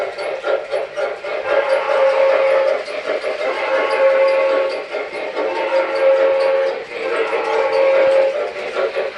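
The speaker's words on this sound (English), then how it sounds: "you notice the whistle now consistently blows" An MTH Railking L3 Mohawk model train blows its whistle in several sustained blasts over steady running and track noise, loud and close.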